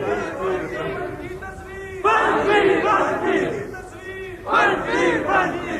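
A large crowd at a religious gathering in Rawalpindi roars slogans in unison, loud chanted bursts that swell and fade, with a fresh surge around the midpoint and another near the end.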